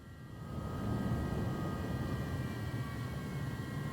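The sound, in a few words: jet aircraft in the video game Microsoft Flight Simulator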